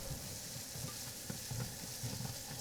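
A quiet, steady sizzle of frying in a pan for spicy pasta, with soft crackles and light stirring scrapes running evenly throughout.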